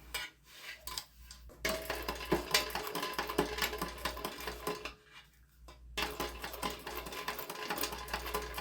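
Sewing machine stitching a new zipper tab onto a satchel, with bursts of rapid mechanical whirring broken by short pauses, close and fairly steady.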